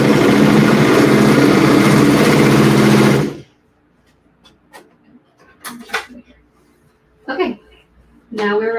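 A serger sewing machine stitches fabric in one loud, continuous high-speed whir for about three seconds, then stops abruptly, leaving a quiet room with faint handling clicks and short bits of nearby talk.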